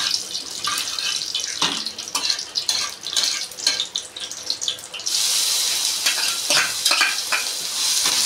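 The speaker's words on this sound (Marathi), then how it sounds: "आता यामध्ये आपण जो मिरचीचा ठेचा बनवला आहे तो टाकणार आहोत." Crushed green chili thecha goes into a hot pan and is stirred, a steady close sizzle with scraping stirs that turns louder and brighter midway through.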